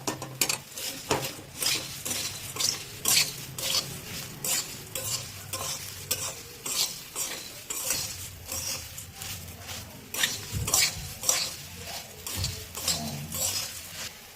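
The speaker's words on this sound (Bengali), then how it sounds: "আমরা দিয়ে দিচ্ছি সেও ভাজাটা ওপর থেকে, দিয়ে এটার সাথে ভালো করে মিক্স করে দেবো" Spicy puffed rice being tossed with fried sev in a bowl: steady, close scraping and rustling strokes in a quick repeated rhythm with light metallic clinks and a faint sizzle underneath, no talking.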